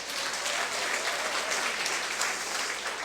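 An audience claps steadily through a Korean company product presentation, a dense, continuous wash of applause lasting about three seconds with no voices on top.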